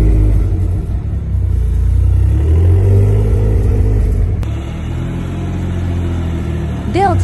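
A 612 bhp Toyota GR Yaris, built up as the most powerful in the UK, rumbles loud and close with a deep, steady engine drone that drops slightly in level partway through, with no talk over it.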